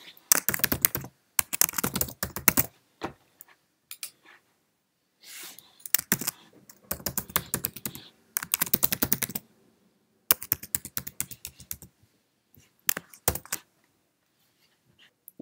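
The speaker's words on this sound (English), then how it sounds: "Let's now type in my name, last name, and create a password." Typing on a Mac computer keyboard, close-up bursts of quick, crisp key clicks in several short runs, separated by silent pauses while entering details.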